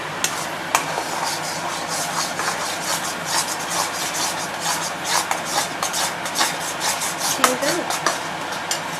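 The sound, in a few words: continuously stirring peas and ginger in a pan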